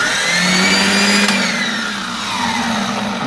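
An 18-volt cordless chop saw for cutting aluminum powers up and runs free, a loud close whine that rises and holds with a slight dip, no cutting and no talk.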